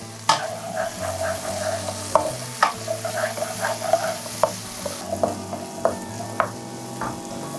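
Whole shallots, green chillies, coconut pieces and curry leaves sauté in a pan, with a steady sizzle under repeated rhythmic spatula strokes and sharper scraping knocks, close and fairly loud.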